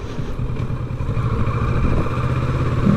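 A motorcycle engine rumbles steadily and close in Maragogi, a steady mid-pitched drone with some clatter that swells slightly toward the end, with no talk.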